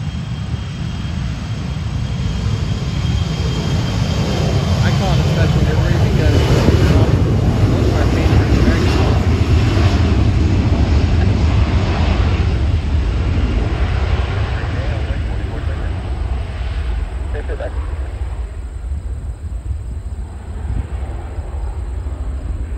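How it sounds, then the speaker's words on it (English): Republic Airways jet airliner in a special livery taxiing onto the runway at Cleveland Hopkins airport, a steady loud engine roar with wind buffeting on the microphone, rising and then easing slightly as it rolls along. "We have a special livery taking the runway right now."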